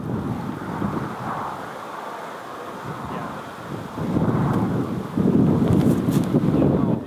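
Wind gusts outdoors at a disc golf tournament, a low, rough rumble buffeting the microphone that swells louder toward the end, with no talk.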